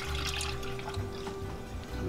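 Milk for grits pours steadily into a pot in a continuous close splashing stream, with no voices over it.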